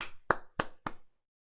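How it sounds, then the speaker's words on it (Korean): Three sharp, evenly spaced hand claps, close and crisp, given in congratulation and respect, then silence. "축하와 존경의 박수를 드리겠습니다"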